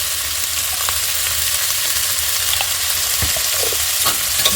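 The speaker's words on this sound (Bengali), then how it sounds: "এটাকে নাড়াচাড়া করে দেবো।" Sidal chutney being stirred and fried in a pan with salt and turmeric, a steady close sizzle with scraping stirs throughout, no voices.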